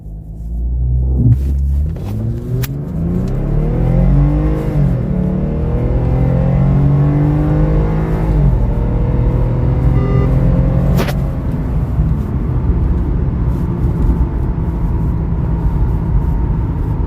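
A Lexus IS250 in sport mode launches hard from a standstill for a 0-100 km/h run, its engine climbing through several rising gear pulls with brief shift breaks, loud and close from inside the car.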